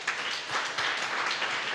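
A church congregation applauds during a Sunday evening service: steady broadband clapping, a continuous wash of applause at moderate volume throughout the short stretch, with no voices standing out.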